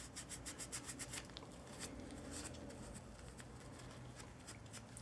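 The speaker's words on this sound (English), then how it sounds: "The wire brush works well too." A wire brush scrubs grease off Kia and Hyundai brake parts in quick, rhythmic strokes, close up and fairly quiet, with a short pause and then renewed scraping.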